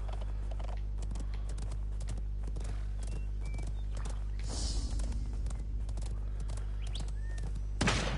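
A horse's hooves clip-clop in the fantasy battle royale game Realm Royale. The steady mid-level hoofbeats come with creaks and mechanical noises over a constant low hum, and there is a brief louder burst near the end.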